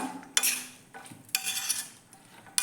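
A spatula scrapes and clanks against a pan while plantain and carrot stir-fry is mixed, three or four distinct bursts of stirring with quiet gaps between, close and fairly loud.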